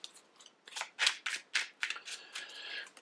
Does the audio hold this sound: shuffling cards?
yes